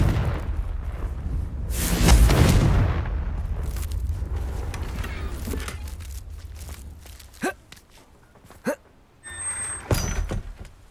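Confringo fire spell exploding in Hogwarts Legacy, a loud rumbling blast that swells and fades over several seconds, followed by a few sharp thuds and game effects.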